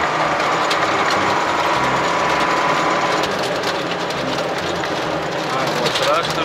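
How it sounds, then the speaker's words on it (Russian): A loud tractor engine drones steadily and close throughout, a constant mechanical rumble with no pauses, while hay bales are loaded. "А, вот трактор."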